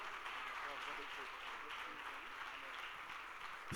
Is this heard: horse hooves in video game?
no